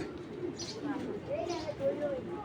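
Pigeons kept for sale coo in short low calls, moderately close, with a voice speaking over part of it.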